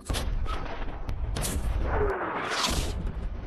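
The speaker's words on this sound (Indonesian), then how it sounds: "meminta pasukan artileri dari markas pusat menembakkan senjatanya dari jarak jauh" Artillery fires from long range in a war film, distant booms and cracks scattered over a continuous rumbling battle background at moderate level.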